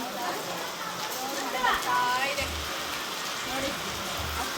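Steady rain patters throughout, a broad wash of falling water with people talking over it now and then.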